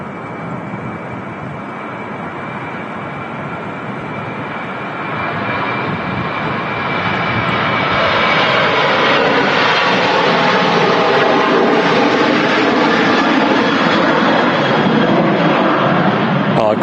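A Jet2 Airbus A380 airliner takes off from Manchester Airport in the evening, its engines a loud, continuous broadband roar that swells and grows fuller partway through before holding steady.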